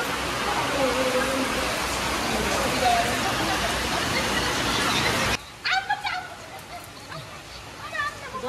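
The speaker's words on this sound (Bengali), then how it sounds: "আজকে বৃষ্টি হচ্ছে, দেখুন কি হারে বৃষ্টিটা হচ্ছে" Heavy evening rain pours down in a loud, dense, steady roar for about five seconds, with a voice over it. The sound then cuts abruptly to a quieter scene of voices and honking calls.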